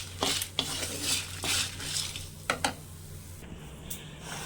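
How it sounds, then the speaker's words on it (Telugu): Dry coconut roasting in a pan for a spice powder, with a utensil scraping and clinking against the metal in several distinct strokes over a low steady hum, close and moderately loud, no voices. "పొడి కోసం వేయించుతున్నానండి"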